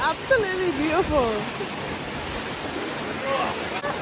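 The Toraille Waterfall in St. Lucia rushes as a steady, loud broadband roar throughout, with a person talking over it near the start and again briefly toward the end.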